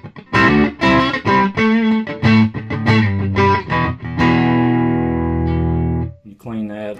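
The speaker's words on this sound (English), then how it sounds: "Now let's go through some of the distortion sounds you can get out of this thing." An electric guitar played through a TightDrive Pro distortion pedal rings out in sustained, gain-heavy chords and picked notes, loud and close, with a long held chord near the end.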